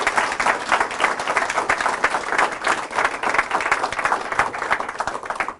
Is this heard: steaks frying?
no